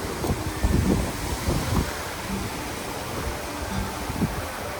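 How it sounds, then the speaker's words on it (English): Strong storm wind buffets the microphone in a rural garden, a constant roaring rush with gusty low thumps rising and falling throughout, no voices. "I think we've got this wind until"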